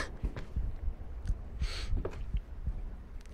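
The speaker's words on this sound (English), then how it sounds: "My heart is beating so fast." A fast, regular heartbeat pounds in a video game, a steady series of soft, low thumps with faint background hum and no voices.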